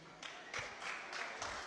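A French audience applauds in short bursts of clapping, moderately close and fairly soft, with no voices over it.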